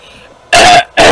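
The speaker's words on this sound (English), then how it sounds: "I'm coughing so much" A person clears their throat and coughs in two loud, close bursts after a brief quiet moment.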